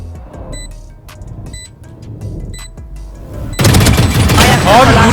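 Gunfire from the tactical shooter game Valorant breaks out as a dense, loud burst of rapid shots in the last seconds. Quieter game ambience and small clicks come before it.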